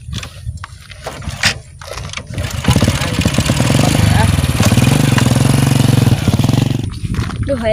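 A motorcycle engine catches and revs after a few short attempts, settling into a loud, close, steady rumble that fades slightly at the end, with voices talking around it.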